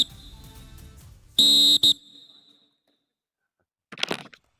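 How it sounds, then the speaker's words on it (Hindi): A referee's whistle at a Yuva Kabaddi series match gives two shrill blasts, a longer one then a short one, after a commentator's voice fades. A brief noisy burst follows moments later. "और क्या सीटी बजने वाली है यहाँ पर"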